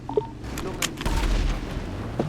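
An explosion in the video game GTA V, a door-breaching bomb going off; a deep boom bursts out mid-clip among sharp gunfire-like cracks, with voices talking around it.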